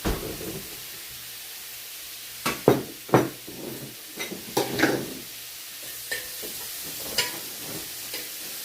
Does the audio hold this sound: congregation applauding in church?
no